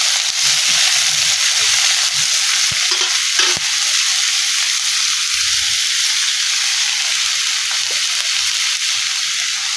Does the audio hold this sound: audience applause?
no